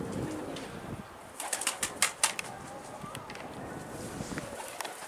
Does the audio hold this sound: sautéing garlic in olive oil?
no